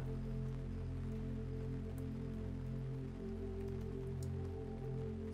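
Steady rain falling, a constant soft hiss with scattered drops, blended with a low sustained musical drone.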